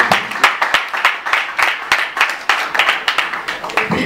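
At a press conference, an audience claps for a dancer named Divine with irregular, close handclaps that come in quick clusters, without any voices.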